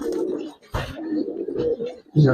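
Giribaz pigeons coo in a loft, several low, throaty coos in close succession, near and clear.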